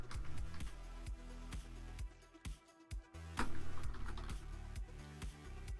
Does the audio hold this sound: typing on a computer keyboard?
yes